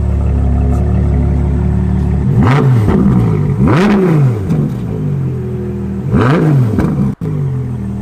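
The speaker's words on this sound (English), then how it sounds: "Naturally aspirated V12." A large naturally aspirated V12 engine in sport mode revs hard three times, each rise and fall sweeping up and back down over a steady loud idle.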